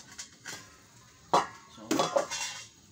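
Fried tuna being set into a pan of cooking eggplant, a few soft clanks and clatters of pan and utensil against a quiet background.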